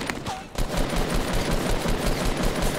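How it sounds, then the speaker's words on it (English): Rapid gunfire bursts from sniper rifles in a Fortnite Doubles match, loud and dense over a continuous din, with a brief quieter lull at the start before the shooting dominates. "I'm still being sniped though"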